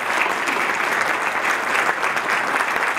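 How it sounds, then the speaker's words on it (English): An audience at a Rotary club meeting claps in steady, dense applause that carries loudly and evenly throughout. "Let's give her another big round of"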